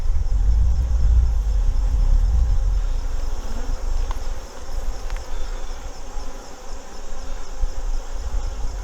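Honey bees swarm around an open hive during an August inspection, a dense steady buzz close by, with a few brief knocks of frame handling partway through.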